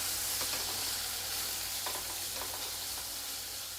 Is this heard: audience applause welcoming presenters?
no